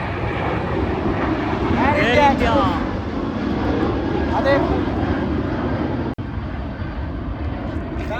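Steady, loud broadband airplane engine roar from a Bahrain to Mangalore flight preparing for takeoff, continuous throughout, with a voice speaking briefly over it.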